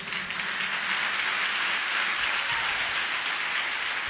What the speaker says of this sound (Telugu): చప్పట్లు కొట్టి మన ప్రభుని స్తుతిదాం గట్టిగా